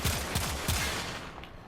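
Five rapid pistol shots from Warframe crack out in a quick, evenly spaced burst, loud and close, with a short tail of reverb afterward and no talking.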